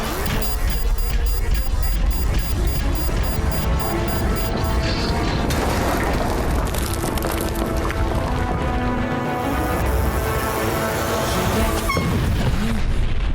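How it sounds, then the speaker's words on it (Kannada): A cartoon boom-blast explosion during a tiger attack on a city erupts as a sustained, loud crashing roar of dense noise and impacts that fills the whole stretch without pause. "Activate boom blast."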